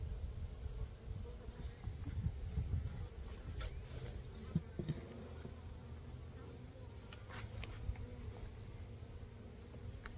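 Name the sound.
bees buzzing in hive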